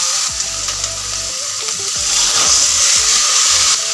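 Cut jackfruit seeds dropping into cooked spice masala and frying in a pan for a rohu fish bhuna, a loud, constant sizzle with bursts of hiss and stirring, and no voices.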